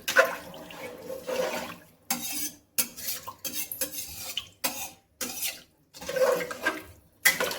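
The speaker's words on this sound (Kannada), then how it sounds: "ಇವಾಗ ನಾನು ನೀರನ್ನು ಸೇರಿಸ್ಕೊಳ್ತಾ ಇದ್ದೀನಿ." Water is poured into a pot of rice for vegetable masala rice: uneven bursts of splashing and pouring with brief pauses between them, close and fairly loud, with no voices.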